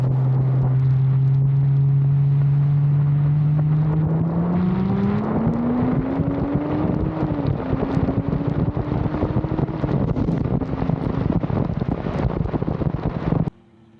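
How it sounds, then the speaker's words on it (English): A 1000 HP Audi RS3 and a Toyota Cressida roll racing at a Speed Demons event, heard as a loud engine drone rising steadily in pitch through the gears under heavy wind buffeting, then cutting off abruptly. "Here we go, Cressida versus RS3."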